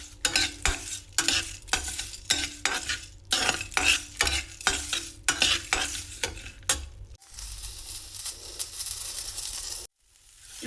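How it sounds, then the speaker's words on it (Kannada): Coriander seeds and curry leaves roast in a pan, with a spoon scraping and stirring in quick rhythmic strokes over a low sizzle. The stirring then stops and a steady frying hiss carries on alone before cutting off briefly. "ಕೊತ್ತಂಬರಿ ಬೀಜ ಹಾಗೂ ಕರಿಬೇವಿನ ಸೊಪ್ಪು ಇದನ್ನು ಹುರ್ಕೊಳ್ಳೋಣ"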